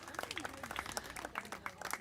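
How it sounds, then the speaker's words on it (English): Light, scattered clapping at an outdoor minor league baseball tournament final, a small crowd applauding a team, fairly faint, with a voice talking over it throughout. "And we're getting a final clap for them"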